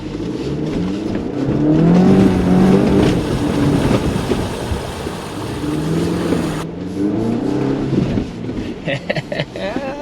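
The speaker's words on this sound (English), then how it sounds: "I was told I can floor it through the mud pit." A 2023 GMC Canyon AT4X is floored through an off-road mud pit, its engine roaring loudly and steadily with a rising, revving pitch, mixed with rushing, splashing noise close by.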